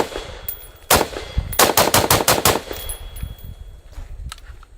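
A Bushmaster ACR rifle fires into rocks outdoors: a single sharp shot, then a rapid string of about seven loud, close cracks, followed by fainter echoes and clatter.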